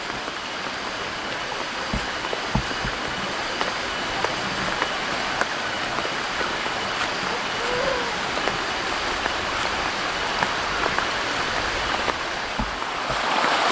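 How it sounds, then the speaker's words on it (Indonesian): A clear river flows nearby in a rushing, continuous wash of water with small splashes and occasional soft knocks, steady and fairly loud, with no voices. "Nah, ini ada sungai, tuh airnya jernih banget."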